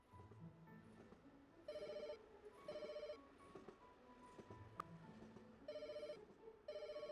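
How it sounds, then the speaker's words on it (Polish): Telephone ringing inside the pet hotel management video game Pets Hotel: repeated electronic double-burst rings in a steady rhythm over quiet background game sounds, clear and close. "Gdzie dzwoni telefon?"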